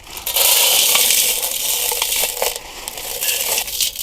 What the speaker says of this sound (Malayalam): നമുക്ക് അതിലേക്ക് കല്ലുപ്പിട്ട് കൊടുക്കാം.